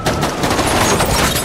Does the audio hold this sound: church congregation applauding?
no